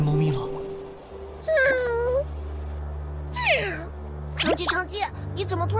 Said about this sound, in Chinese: 变回猫咪了